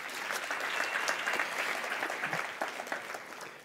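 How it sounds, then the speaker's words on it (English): Young science fair participants applaud themselves at a youth science expo, steady dense clapping throughout with a few sharper claps standing out near the end. "And for that, give yourselves a round of applause."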